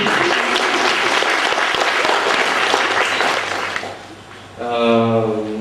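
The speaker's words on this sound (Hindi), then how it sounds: "ताली को बना दो यार." Audience applause at a dance workshop grand finale event in Surat, dense and steady clapping for several seconds that fades, then an announcer's amplified voice speaks over the hall.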